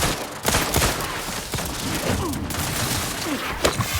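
Gunfire in the video game The Outer Worlds 2, repeated sharp shots and bursts in a dense fusillade over a loud, busy background of game effects.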